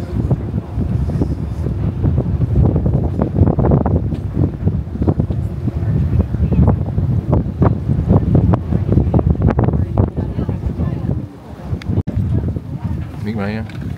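Wind gusts across a mountainside near Grand Teton, blowing snow off the peaks, with a steady, loud roar and rumbling buffeting on the microphone throughout while a person talks over it.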